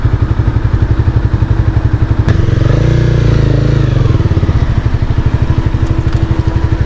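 A motorcycle engine idles close by with a steady low throbbing rumble, briefly swelling louder midway before settling back into its even putter.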